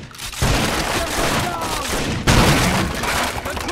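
Frag grenades explode in the video game Rainbow Six Vegas 2. Two loud, close blasts land about two seconds apart, each followed by a dense rumbling roar, and a voice is heard in the background.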